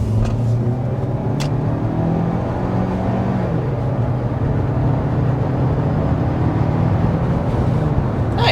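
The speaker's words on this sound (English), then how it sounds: "we're going to start with a hard acceleration" A turbocharged 2023 Ford Escape ST-Line engine drones and rises steadily in pitch under hard acceleration, loud and continuous, with a deep rumble underneath.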